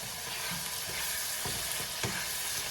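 Spicy beef empanada filling sautéing in a pan, a dense, continuous sizzle with a few soft stirring scrapes, close and steady, no voices.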